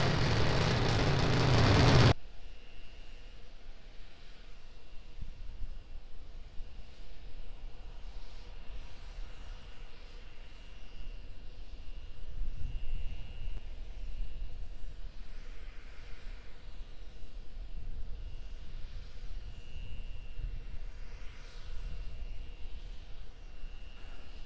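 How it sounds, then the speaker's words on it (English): Starship rocket engines lift off in Space Flight Simulator, starting with a brief loud blast. A steady, low roaring drone holds for over twenty seconds, rising slightly in the middle, with no talk over it. "Starship 10 has lift off."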